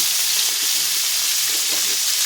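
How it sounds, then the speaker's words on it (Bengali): Ginger, panch phoron, dried red chilli and vegetables such as sweet potato, papaya, long beans and potato fry in oil in a kadai, giving a dense, loud, continuous sizzle with no pauses. "যে কড়াইতে তেল দিয়ে দেবো, আদা, পাঁচফোড়ন আর শুকনো লঙ্কা, মিষ্টি আলু, পেঁপে, বরবটি, আলু"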